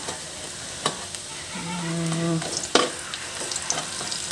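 Marinated liver hits a pan over high heat and fries with a continuous sizzle, with occasional sharp clatters of a utensil against the pan and a brief low hum partway through.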